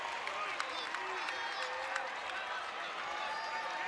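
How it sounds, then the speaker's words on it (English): Basketball fans at an Indiana State Sycamores home game against Bradley cheer in an arena, a steady wash of crowd noise with scattered claps and a few squeaks, under a commentator's talk. "some fans piled in. They're cheering the Sycamores on here."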